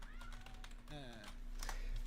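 A cat meows at close range during a livestream, wanting to be let in, with a voice talking over it and some light keyboard clatter in the background.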